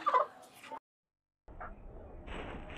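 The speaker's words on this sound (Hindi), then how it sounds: "और अभी हमारी मुर्गियां खेल रही हैं।" Australorp and desi hens in a backyard coop, a short clucking call up close, then a gap of silence and soft rustling with scattered faint cackles.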